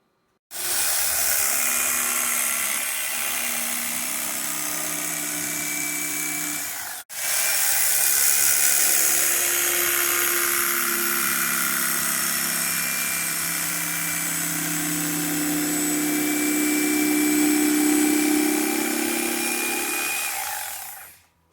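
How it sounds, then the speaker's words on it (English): An electric knife bevels the edges of upholstery foam for a go-kart seat, its motor whining loud and steady for about 21 seconds with one brief cut-off near the seven-second mark. "Just taking the old electric knife and 45ing the edges here to give it a little bit of a bevel"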